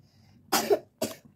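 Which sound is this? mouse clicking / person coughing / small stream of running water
person coughing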